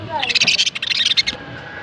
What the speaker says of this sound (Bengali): বাজিগার পাখি, ইয়েলো কালার, সবগুলো ইয়েলো কালার